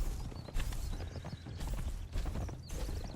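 A horse's hooves clip-clop in the video game Conan Exiles, a quick steady run of close hoofbeats with short pauses, fairly faint against a soft background.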